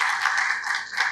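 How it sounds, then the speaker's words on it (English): An audience at an agricultural conference breaks into a brief burst of applause, many hands clapping in a dense, steady patter. "ASSOCHAM deserves a round of applause for that"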